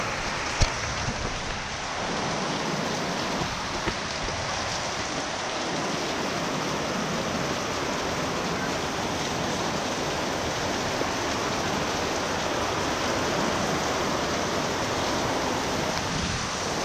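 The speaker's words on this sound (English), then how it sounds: "Go play in the rain, man." Rain falls outdoors, making a steady, dense hiss of drops that stays loud and even throughout.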